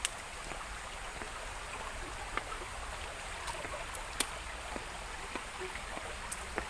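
Small stream flowing through a Japanese garden at a historic Tokugawa samurai family site, a steady soft broadband wash of water with scattered faint drips and splashes, fairly distant and continuous.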